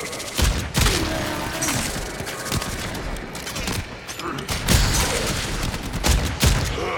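Rapid bursts of weapon fire from the video game Warframe during a solo survival mission, repeating in uneven clusters over a dense, noisy combat backdrop.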